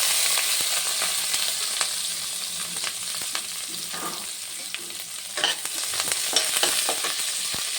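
Chana dal, urad dal, garlic and dry chillies fry in a pan for a radish-greens stir-fry, giving a steady close crackling sizzle with occasional spoon scrapes and stirring clatter throughout.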